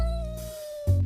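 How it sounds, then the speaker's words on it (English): A cat gives one brief, drawn-out meow, close up, followed by a short thump. "I hear a cat."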